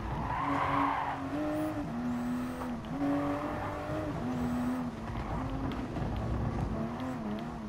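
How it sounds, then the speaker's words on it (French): A race car in Gran Turismo Sport skids for a long stretch, its tires squealing in a wavering whine over a loud, sustained engine roar. "Je sais pas pourquoi elle glisse comme ça, la véhicule."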